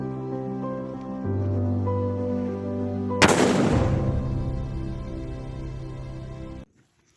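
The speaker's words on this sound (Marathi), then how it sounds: "देखा सुतडी बॉम्ब कितला कडक आवाज ना" A sutli bomb firecracker goes off with a single sharp, loud bang partway through, its boom decaying over a few seconds after a steady tonal hum beforehand, then cutting to silence.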